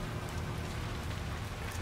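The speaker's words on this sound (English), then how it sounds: "Rain, rain, nothing but rain." Steady rain pours in the Hitman 3 video game, a dense, even hiss of drops striking surfaces that holds at the same level for the whole stretch, with no voices.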